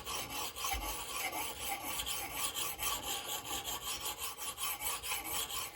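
Coarse side of a diamond sharpener filed back and forth along the edge of a Plumb framing hatchet, a steady rhythmic rasping of quick repeated strokes, close and continuous with no talking.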